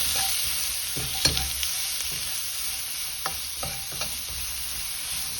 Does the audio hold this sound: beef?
yes